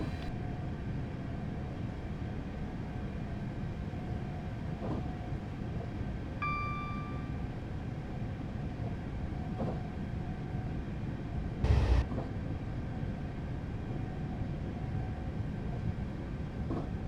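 A Class 444 electric train running in Train Simulator 2015, climbing a gradient near 80 mph: a constant dense rumble and rail roar throughout, with a brief tonal beep and one short louder thump.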